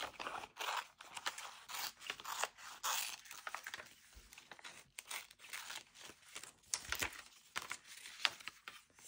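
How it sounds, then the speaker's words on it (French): Scissors cutting through a glossy magazine page, with a steady run of crisp snips and papery crinkling up close, continuing for several seconds with no speech. "Donc, on va le découper."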